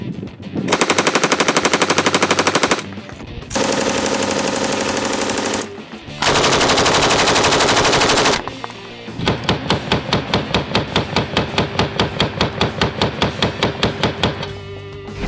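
An M249 SAW, a belt-fed, gas-operated 5.56 mm squad automatic weapon, fires on a range in loud sustained bursts with short gaps between strings, the last string rattling as distinct rapid reports.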